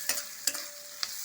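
Onions frying in a pan for amaranth-leaf dal, a soft continuous sizzle broken by three sharp stirring scrapes, close and fairly quiet.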